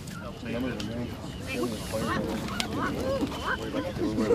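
Geese honk repeatedly during goose banding, over a busy background mixed with people talking nearby.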